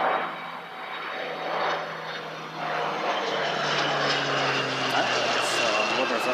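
An Airways aircraft approaching Christchurch Airport for touch-and-go practice, a steady broad engine roar that holds loud and constant in windy conditions, heard from a distance with no speech.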